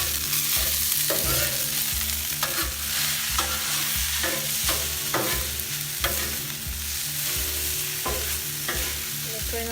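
Kung pao chicken stir-fries in oil on an outdoor griddle, a loud continuous sizzle with rhythmic spatula scrapes and tosses repeating roughly every second.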